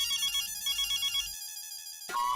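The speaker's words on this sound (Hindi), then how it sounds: "मेरे ऑफिस से फोन है" A telephone rings indoors with a repeating electronic ringtone melody, steady and fairly loud, for about two seconds before a brief higher tone cuts in at the end; no one speaks.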